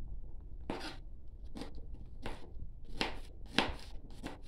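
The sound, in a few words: chopping garlic with a knife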